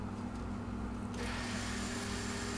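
A bench grinder fitted with a sanding attachment runs at idle with a vacuum cleaner hooked up to it, giving a steady loud whirring hum with a constant tone that continues throughout.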